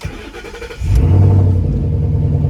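A GT/CS car engine cranks and catches, then settles into a steady, loud idle rumble close by.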